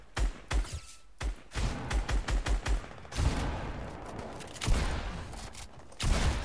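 Gunfire rattles in a Fortnite Team Rumble match: bursts of rapid automatic shots, a quick run of evenly spaced cracks, then heavier scattered blasts, loud and close with no talk over them.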